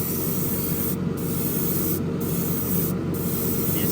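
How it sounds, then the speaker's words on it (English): A continuous, steady airbrush hiss spraying paint onto the chassis of an AMT Corvette ZR1 model car, close and even throughout with no breaks or voices. "And now with the airbrush, you get nice, smooth coverage really quickly."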